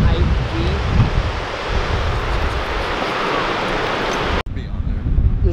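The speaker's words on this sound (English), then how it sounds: "The waves are small, but like perfect for us." Small, clean ocean waves roll in at Short Sands Beach, Oregon, a steady broadband wash of surf heavily roughened by wind buffeting the microphone, with a brief dropout near the end.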